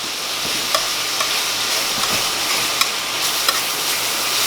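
Gravy for biscuits and gravy bubbles and sizzles in a pan, a steady close crackle with faint stirring ticks, no voices over it.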